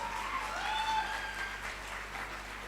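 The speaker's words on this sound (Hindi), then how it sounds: "ताली कम बजा रहे" Faint, distant clapping from a crowd at a mega show stage event, a soft continuous wash heard over a low hum, with a few tonal sounds drifting through it.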